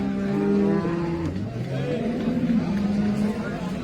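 A cow moos loudly and close by at a cattle market, a long drawn-out low call followed by another, with people talking in the background.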